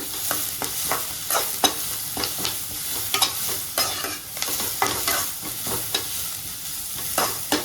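Onion and curry-leaf masala for tea-shop potato bonda fries in a pan and is stirred with a spoon. Repeated scraping strokes land over a constant sizzle, with no voices.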